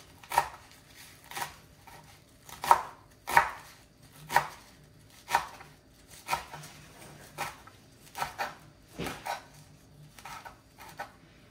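A knife chops Jamaican callaloo greens on a cutting board in a kitchen, a dozen or so crisp, fairly regular strokes close by and quiet, with no voices.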